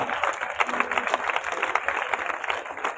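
An audience at an outdoor village yoga program in Kundgol claps together, a dense, steady patter of many hands held at a moderate level for a few seconds.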